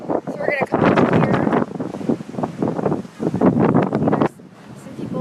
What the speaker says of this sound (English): So these winds are crazy.